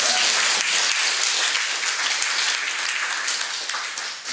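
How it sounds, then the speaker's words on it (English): Conference audience applauding at a WordCamp Boston event, dense steady clapping throughout that fades slightly toward the end, no voices over it. "so please a round of applause for this wonderful event"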